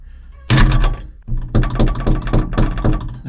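A wooden chicken coop door swings shut against its door stops and latches, giving a loud thunk followed by a quick run of knocking, rattling bumps, with no one speaking.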